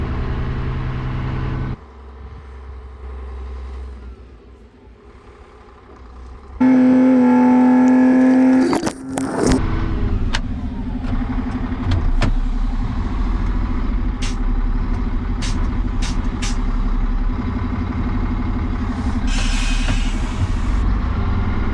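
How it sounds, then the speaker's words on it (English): An articulated dump truck reverses into position, then settles to a steady diesel idle with neutral engaged; a loud whine and clatter mark the load tipping midway, followed by continuous engine rumble with occasional sharp knocks. "reversing back into position before applying the handbrake and neutral before tipping the load"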